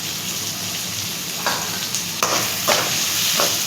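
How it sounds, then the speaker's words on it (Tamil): Onions and tomatoes sauté in a pan with a loud, constant, close sizzle, and a few brief spoon scrapes punctuate the frying. "வெங்காயம் நல்லா வதக்கட்டும்."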